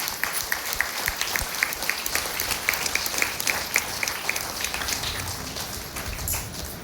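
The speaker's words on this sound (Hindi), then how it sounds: "जबरदस्त ताली होना चाहिए।" A large audience claps at a DXN success-story event. Dense, steady applause with many hands fills the room, sustained and fairly loud throughout.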